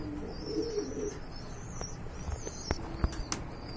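Rajshahi Giribaz pigeons give soft, low cooing in the near distance, with a few brief chirps and light wing or body movement sounds mixed in over a quiet background.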